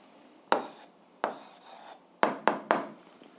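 Five separate scratchy strokes of pen or chalk writing out an algebra answer, each a short rough burst with pauses between them and the last three coming quickly; close, fairly quiet, with no voice.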